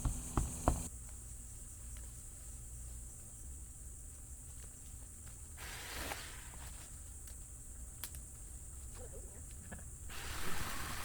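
A steady, high-pitched drone of cicadas buzzing continuously in the background around an abandoned house, with a few brief knocks and rustles.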